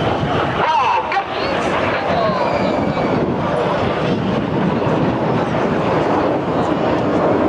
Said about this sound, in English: these 4 aircraft now descend to just 100 feet above the sea